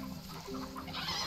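A chicken in the medieval castle-building game Stronghold: Definitive Edition gives a short, faint cluck, brief and thin against quiet game ambience.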